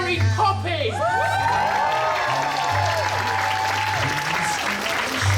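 A large crowd at an anime convention masquerade applauds and cheers loudly, with whoops and high whistling shouts running throughout.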